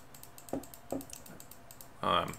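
Quiet, scattered computer mouse clicks from someone playing the naval strategy game Rule the Waves, spaced irregularly over low background noise and ending in a louder burst.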